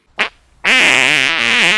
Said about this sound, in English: I've farted